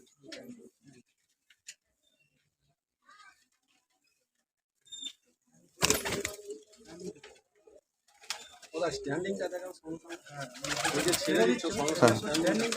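Teddy and Rampuri pigeons coo in soft, repeated throaty bursts, quiet at first with long gaps, then a denser, louder stretch of cooing and fluttering near the end, with someone talking at times.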